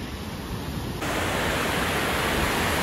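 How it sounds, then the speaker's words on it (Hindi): Glacier meltwater rushes near a waterfall in Manali, a loud steady broadband roar that jumps abruptly louder after the first second and then holds constant with no voices. "ग्लेशियर का पानी आ रहा है"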